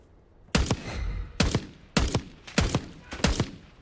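Gunfire in Call of Duty Black Ops 6 on PC: five sharp, loud bursts of shots spaced under a second apart, each with a short echoing tail and no talking between them.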